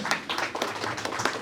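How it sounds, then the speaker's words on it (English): Scattered applause from a small audience at a university International Women's Day celebration, individual hand claps distinct and uneven, fairly close, with a few voices underneath. "Let's give her a big round of applause."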